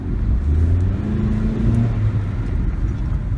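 A Nissan Sentra, just repaired after stalling at idle, drives around a parking lot, its engine rising and falling in a loud, close, steady rumble with a brief climb in revs.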